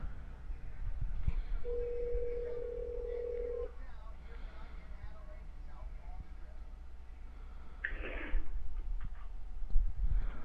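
A telephone call rings out with a single steady tone lasting about two seconds, then a brief burst of clicks and noise on the line, with low background hum throughout.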